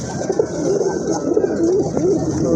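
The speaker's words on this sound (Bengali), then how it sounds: "হয়তো আরেকটা কবুতর নিলে ওর ডাকটা আমি সুন্দর মতন ভাবে দেখাইতে পারতাম" Pigeons cooing at a pigeon seller's, soft repeated throaty coos close by over a steady hum of other birds, with no voices.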